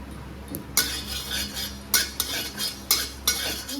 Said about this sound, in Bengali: বেগুনটাকে একটু হালকা করে ভেজে নেব জিরেটা একসঙ্গে ভেজে নেব